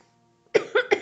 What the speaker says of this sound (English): You done coughing?